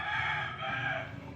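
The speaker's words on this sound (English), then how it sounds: "And that was a rooster." Somewhere outdoors nearby, a rooster crows in one long, loud, drawn-out call that fades slightly toward its end, with no talk over it.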